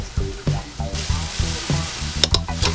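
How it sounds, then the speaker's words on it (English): Mushrooms, tomatoes, onions, scallion and pepper sizzle in grapeseed oil in a pot, a steady close frying hiss with a few scraping stirs, set against rhythmic background music. "Now you put some grapeseed oil in the pot, throw in your mushrooms, tomatoes, onions, scallion, and pepper."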